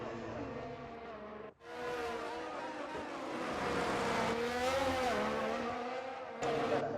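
Formula 1 race cars in a Monaco Grand Prix racing video game, engines wailing loud and close with rising and falling pitch as cars pass, a brief dip near the start, then a sustained dense roar with gear shifts.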